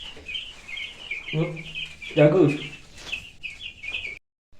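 Brooding chicks chirp in a steady high twitter throughout, mixed with someone talking over them close by.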